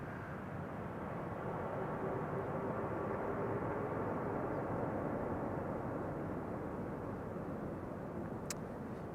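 American Airlines Boeing 787 Dreamliner, flight 203 from Philadelphia, at Amsterdam Schiphol Airport, a steady distant jet rumble with a faint engine whine holding evenly throughout, no voices.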